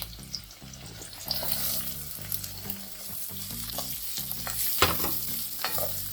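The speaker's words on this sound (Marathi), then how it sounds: "कांदा मऊ होईपर्यंत परतून घ्यायचा।" Onions sauté with green chillies in a pan, sizzling steadily up close while a utensil stirs and scrapes in repeated strokes, with no talking.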